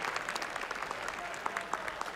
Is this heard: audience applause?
yes